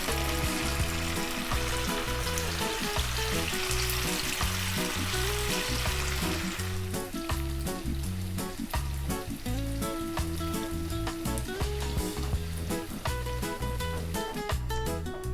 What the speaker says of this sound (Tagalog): So ayan, bali na pirito na natin yung ating tokwa.